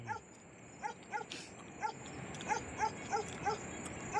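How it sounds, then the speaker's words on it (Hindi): A dog barks repeatedly on a steep hillside road near grazing cattle, short sharp yaps coming in an irregular series, fairly distant over steady background noise. "कुत्ते ने शोर उठाया, इसने हमें देखा है,"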